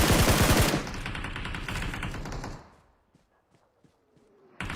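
Rapid automatic M4 rifle fire in a video game, a dense loud burst of shots for the first few seconds that cuts off into near silence.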